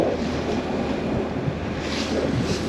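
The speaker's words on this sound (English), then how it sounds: "The waves are not as bad. It's still really windy." Strong wind roars steadily over open water aboard a sailboat at sea on a solo passage from Vancouver to Telegraph Cove, with waves washing and surging continuously around the hull and wind buffeting the microphone.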